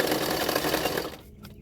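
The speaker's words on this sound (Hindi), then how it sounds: "अभी सिलाई कर रही हूँ शोल्डर" A sewing machine stitches the shoulder seam of a 32-size double katori blouse, running steadily and fairly close for about a second before easing off.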